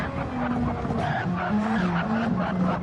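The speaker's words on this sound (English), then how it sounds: "New Blanchimont coming up to the final chicane." A Super Formula race car in a racing game brakes hard into the final chicane at Spa-Francorchamps. Its engine whines steadily and the pitch steps down, with continuous tire skidding, close and loud, and no talk.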